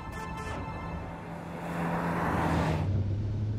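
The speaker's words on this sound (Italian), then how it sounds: "Si sente che il motore è a punto." A 1982 Toyota Celica Supra's twin-cam engine runs with a steady low drone that rises midway as it builds, then settles into a deeper hum, heard from inside or close by without talk.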